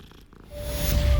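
A cat purrs in the video game Hogwarts Legacy. The low, close rumble starts faint and quickly swells to a steady, loud purr.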